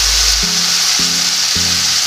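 Tomato puree made from two tomatoes goes into a hot pan already holding Kashmiri red chilli powder for restaurant-style chana masala, giving a steady, loud sizzle and frying hiss throughout with a few soft stirring knocks.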